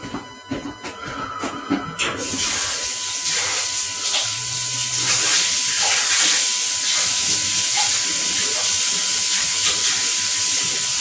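A cloth rag is rinsed under running tap water; after a couple of seconds of quieter kitchen sounds the stream starts and keeps up a loud, close, hissing splash without pause.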